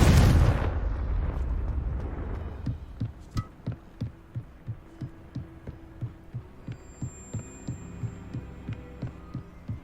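A Confringo fire-blast spell in Hogwarts Legacy bursts loudly at the start, then a low, rhythmic throbbing pulse repeats steadily for several seconds.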